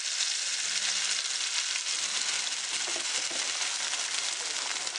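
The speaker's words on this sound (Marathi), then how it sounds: "आता मी त्याच्यामध्ये टाकते आहे पेस्ट जी आपण बनवलेली आहे मिक्सरमध्ये." Ground masala paste hits browned garlic in a pan for a Malwani kadai prawn curry, giving a loud, steady sizzle that fills the whole stretch with no talk over it.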